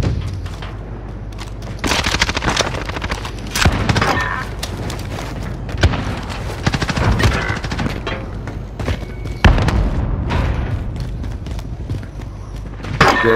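Gunfire in a multiplayer shooter game, with repeated sharp shots and booming bursts in irregular clusters, loud and close, mixed with footsteps and other game effects.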